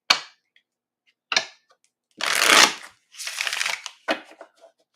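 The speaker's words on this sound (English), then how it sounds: "I never used to shuffle my cards like this" A deck of cards gets shuffled in several short bursts, each a crisp riffle of papery flutter, close and fairly quiet, with silent gaps between the bursts.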